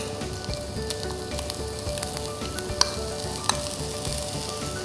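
Onion and coloured capsicum frying in a pan give a dense, steady close sizzle with a couple of sharp utensil clicks, no talking over it.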